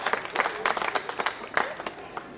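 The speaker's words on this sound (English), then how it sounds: "Let's hear a big round of applause for the message." Applause at a silver jubilee magic show, a smaller scattering of distinct hand claps in uneven bursts, moderately quiet, with some speech mixed in.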